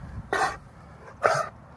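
Two short, sharp coughs sound outdoors on a large stretch of farmland, spaced about a second apart and moderately close, with faint background noise between them.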